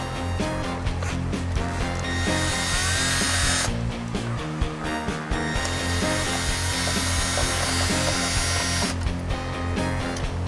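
A power drill bores through a vehicle body panel while fitting an MFC Offroad closed-loop snorkel, a loud steady whine running almost unbroken with two short pauses where the bit restarts.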